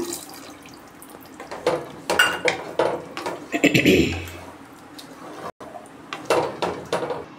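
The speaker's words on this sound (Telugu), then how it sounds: "పులుసు పోసేసుకుంటున్నాను." Tamarind gravy poured into a pan of prawns, a liquid splash and sizzle with clinks of a vessel against the pan, set among scattered kitchen knocks, briefly going silent before more clatter.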